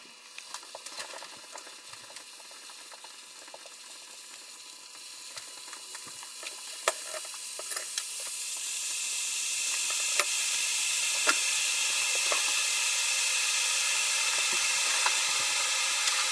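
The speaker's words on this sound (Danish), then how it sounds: "så tager jeg min elkogler her og fylder 3/4 af lige vand op, som du kan se. Det lader vi så stå og koge lidt." Water heats in an electric kettle filled about three-quarters full, starting with faint ticks and crackles and building into a steady rising hiss and rumble as it nears the boil, close and without talk.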